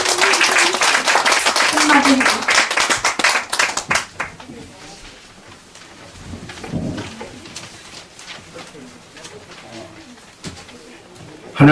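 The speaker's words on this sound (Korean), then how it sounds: "나오실 때 환영의 박수 드리겠습니다." Welcome applause for pastors at a prayer-house opening service: a room of people claps loudly and steadily for about four seconds, then the clapping dies away and scattered voices and soft speech follow in the hall.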